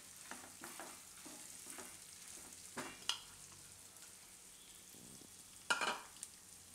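Purple cabbage frying in a hot pan with red chillies gives a quiet, steady sizzle, with a few soft clinks and scrapes from stirring and one louder rustling burst near the end.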